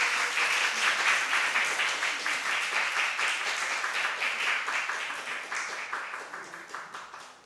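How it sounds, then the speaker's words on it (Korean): A church congregation applauds during a Sunday worship service as a pastor comes forward, sustained dense clapping from many hands that swells and then gradually thins and fades, with no talking over it. "나오실 때 큰 박수 부탁드립니다."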